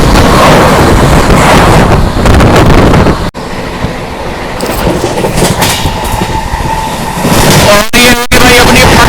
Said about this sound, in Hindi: पूर्वा एक्सप्रेस, प्रयागराज एक्सप्रेस की क्रॉसिंग हुई अभी